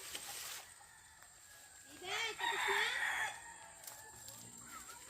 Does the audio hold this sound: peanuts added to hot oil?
no